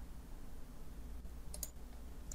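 A computer mouse used in Inventor CAD software gives a few faint, quick clicks close together near the end, over a steady low background hum.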